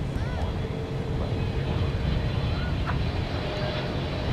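An American Airlines Airbus A321neo takes off at night from DFW, a steady, loud broadband jet roar filling the whole clip without a break, with faint chirps over it.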